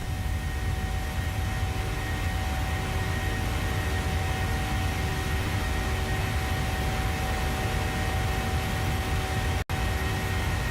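A simulated Boeing 737-700 climbing in Microsoft Flight Simulator 2020 over Colorado gives a steady, unbroken engine roar with broad airy rush and a faint tonal whine, loud and continuous throughout.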